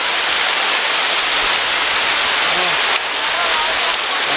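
Strong gusting wind sweeps through a durian orchard in a village, a steady, loud broadband roar like rushing air through foliage, continuous and close throughout.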